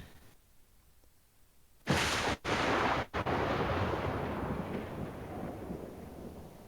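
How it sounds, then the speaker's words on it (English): A thunder clap sound effect played from a soundboard bursts in suddenly and loudly, then rolls into a long rumbling decay that slowly fades. "A sudden clap of thunder."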